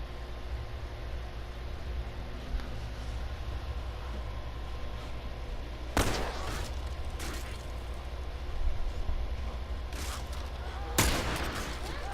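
Scattered gunshots from The Last of Us Part II, fired at infected, crack out as a few isolated sharp bangs over a steady, quiet hiss of game ambience.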